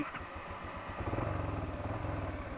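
A motorcycle engine turns over and settles into a steady, throbbing idle, its rhythmic low pulse close by and slightly rising in the second half, with no talking.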